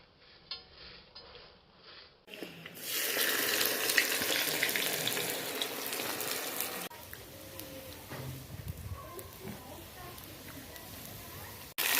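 Sliced onions go into hot fat over cooking jizza in a pot for rice pilaf, a loud sizzling hiss bursting in and then settling to a quieter crackle with faint voices nearby.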